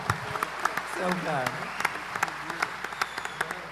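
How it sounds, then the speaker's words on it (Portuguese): Church audience applause for a youth pastor at a pastors' panel: a dense wash of clapping runs throughout, while someone speaks over it briefly in Portuguese. "Salve de palmas"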